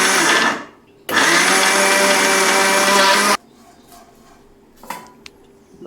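A mixer grinder whirs through coconut chutney powder in two loud, close bursts, a short one and then a longer one, followed by quiet clinks and handling.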